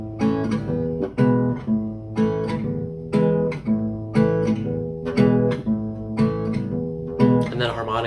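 Repetitive strummed chords in a classic country style, likely acoustic guitar, sound loud and close in a steady rhythmic pattern that cycles over and over without any talking.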